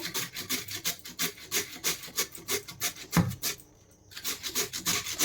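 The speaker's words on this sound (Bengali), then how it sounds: "এখন আমি গ্রেডটা দিয়ে গ্রেড করে নেব" Peeled potatoes are rubbed against a small hand grater in quick, even rasping strokes, close and rhythmic, with a brief pause partway before the scraping resumes.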